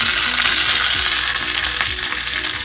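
Curry leaves hit hot oil in a pan for a cucumber moru curry, setting off a loud, continuous close-up sizzle and crackle with light stirring underneath.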